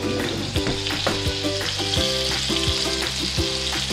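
Sausage patties fry in their own drippings in a pan, giving a continuous crackling sizzle that plays under prominent background music.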